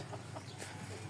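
Breeding chickens in a small backyard coop cluck faintly a few times, soft and distant against a low background hum.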